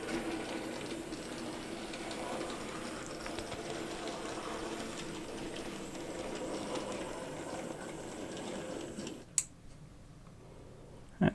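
An N gauge model train locomotive running on a layout track, giving a faint, steady mechanical whir and rattle that continues evenly, then drops away suddenly, followed by a couple of small clicks.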